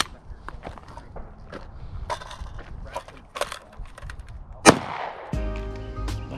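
A Hi-Point C9 9mm pistol fires a single sharp, loud shot outdoors after a stretch of light shuffling and clicking handling noises, followed by a lingering ringing tone.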